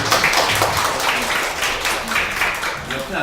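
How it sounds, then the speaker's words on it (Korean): An audience at a lecture on teaching methods gives a short round of applause, with steady clapping throughout and some voices mixed in. "박수 한번 주시죠."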